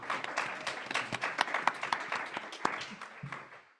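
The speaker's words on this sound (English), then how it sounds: "Another round of applause." An audience claps after a presentation at a lung cancer diagnosis community event at a public library, with a dense, steady patter of hands that thins out toward the end.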